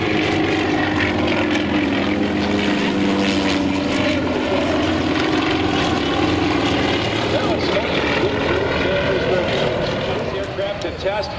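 A propeller aircraft flies at Oshkosh 2013, its loud, close engine drone and buzzing prop filling the whole stretch continuously before easing slightly at the very end.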